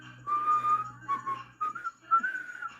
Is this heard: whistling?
yes